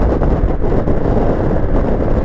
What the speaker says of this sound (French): Là, il y a un petit vent de face et un peu de vent latéraux aujourd'hui